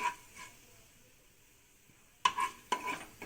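Onion chutney ingredients being stirred in a pan on a gas flame, heard as quiet scraping at first, then two sharp louder clinks and stirring strokes of a utensil against the metal pan near the end.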